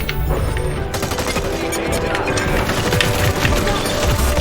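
Rapid gunfire from the video game Hyper Scape crackles in dense, continuous bursts at a loud, close level, mixed with game noise and a voice talking over it.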